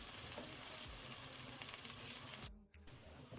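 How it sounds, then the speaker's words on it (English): Onion sizzles in a pan for butter chicken, a close, continuous hissing fry that briefly drops out for a moment before resuming. "I'm going to add the onion and let the onion fry in here until it's golden brown"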